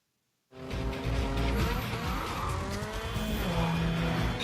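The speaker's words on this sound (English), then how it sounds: "They're in this car chase." Car chase from a Fast & Furious film: roaring engines and squealing, skidding tires burst in loudly after a moment of silence and stay dense and continuous throughout.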